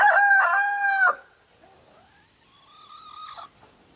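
A small white rooster crows loudly and close by for about a second, followed by quieter, higher bird calls in the background.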